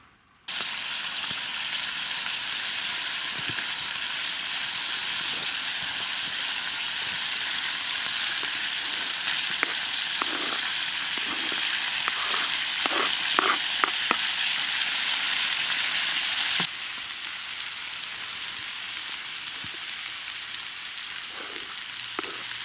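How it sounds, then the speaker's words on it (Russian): Pieces of pork fat (salo) fry in a pan at a camp on a solo fishing trip, a loud steady sizzle with occasional pops and stirring scrapes that eases slightly near the end. "Пусть на сальце все жарится."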